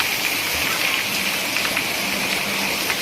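Steady, heavy rain pours down continuously in Palitana, Gujarat, with water collecting in the streets, a dense hiss of drops drumming on surfaces up close.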